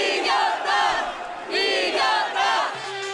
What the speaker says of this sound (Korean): 탄핵 찬성 집회 참가자들은 일제히 함성을 질렀습니다